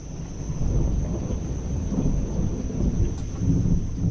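Distant thunder from lightning roughly four miles away rolls as a low, continuous rumble with faint rain hiss beneath, steady over several seconds with no voices.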